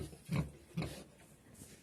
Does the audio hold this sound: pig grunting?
yes